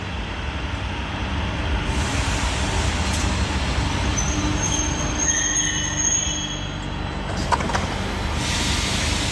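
Inside an early-morning train heading to the airport in Madrid, a loud steady rumble of wheels on rails with high metallic squeals rising and fading, no voices.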